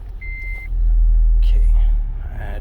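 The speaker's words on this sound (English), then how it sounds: "So I'm gonna turn the car back on because it's really hot outside." A car engine starts up and idles in hot weather, a strong low rumble swelling after a brief high beep and then holding steady while a voice talks over it.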